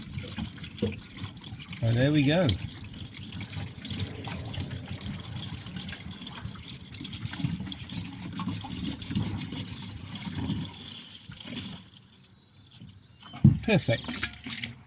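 Diesel fuel poured into a Chinese diesel heater's fuel tank, upgraded from 5 to 10 litres, with a gushing, splashing flow of liquid near the start, then steady trickling under a speaking voice and a brief clunk near the end.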